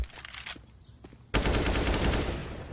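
A loud burst of UMP submachine gun fire comes from a CS:GO match, an FaZe versus BIG game on Inferno. Scattered shots are followed by a dense, sustained rattle of automatic fire.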